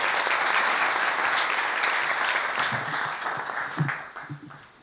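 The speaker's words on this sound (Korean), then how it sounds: "큰 박수로 맞아주시기 바랍니다" An audience at a military chaplaincy seminar gives a presenting colonel and Buddhist chaplain a warm round of applause, steady clapping that gradually thins and fades, with a few scattered claps and room sounds trailing at the end.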